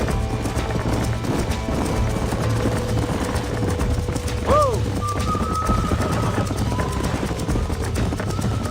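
Horse hooves clip-clop steadily in Red Dead Redemption, a close, rhythmic trot on a ranch that runs the whole way, with a brief whinny midway and a voice talking over it.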